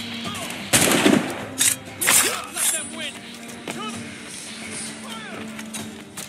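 Soldiers' gunfire erupts in Assassin's Creed Rogue, with a sharp opening volley followed by scattered bursts and single cracks that echo and die down, while voices shout in the background.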